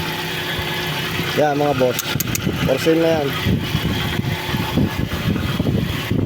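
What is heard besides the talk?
quiet vehicle engine idling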